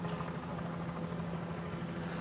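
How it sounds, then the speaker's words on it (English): Police helicopter overhead at a shooting scene in Salt Lake City, a faint, steady low rotor drone that holds throughout with a constant hum and no voices. "you can hear the helicopter overhead"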